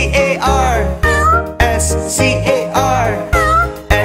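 A cat's meows sung into a children's nursery rhyme about a farmer's cat, repeated in a steady rhythm of drawn-out, musical mews over a bright backing track, loud and close.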